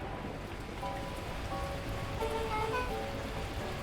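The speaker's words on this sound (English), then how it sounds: "At that moment, the heavens opened up, unleashing torrential rain." Torrential rain pours down in the video game Beacon Pines, a steady, dense wash of noise with no break, joined by a few faint tonal notes partway through.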